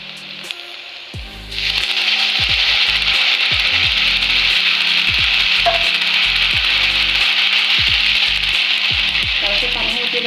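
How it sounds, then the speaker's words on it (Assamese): Egg Maggi noodles fry in a pan: after a quiet start, a loud, steady sizzle sets in, joined by regular scraping strokes of stirring close by. "অকণমান ভজা দিছোঁ, এতিয়া অকণমান পানী দি লৰাই থাকিব"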